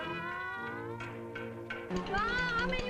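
A cat meows a few times in drawn-out, wavering cries, fairly close, with a soft tonal drone running underneath.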